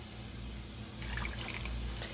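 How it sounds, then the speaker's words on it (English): Water running from a tap, added to a pot of Cajun chicken fricassee; a soft steady flow that grows louder and splashier midway through, with no voices. "Let me get some more water."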